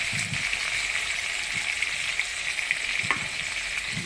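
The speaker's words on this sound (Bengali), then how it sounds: "এখানে এই মশলাটাকে একটু কষাবো।" Spices for a hilsa fish curry sizzle steadily in hot oil, with occasional scraping knocks of stirring; no voices.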